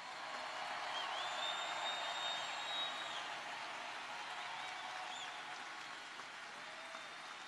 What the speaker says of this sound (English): A round of applause for our hard-working coal miners.